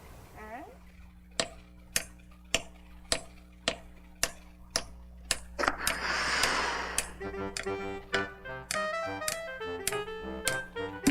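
Sharp taps of an object against a computer keyboard repeat in a steady rhythm of about two per second, close and clear over a tonal musical backdrop, with a brief noisy rush partway through.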